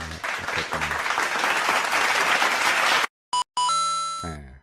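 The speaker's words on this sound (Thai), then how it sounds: "เสริมแรงได้ครับเด็กตอบถูก ก็สามารถปรบมือ" Applause sound effect played in an online classroom, a dense burst of canned clapping lasting about three seconds, cut off abruptly and followed by a short bright chime-like jingle.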